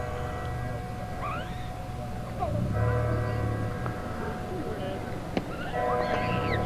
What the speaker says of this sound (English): There's the bells tolling.